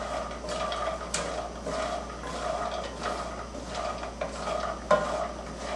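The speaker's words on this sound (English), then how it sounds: "stir them around in the butter and get them coated up" Pecans being stirred in melted butter in a pan for a kids' snack, giving a soft continuous scraping and light sizzle with occasional spoon clinks against the pan, steady and close, with no talking.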